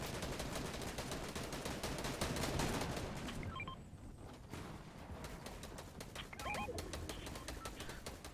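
Gunfire in a Fortnite trios playoff match sounds as dense, rapid bursts of shots that briefly pause and then resume, with small electronic chirps cutting through the steady game noise.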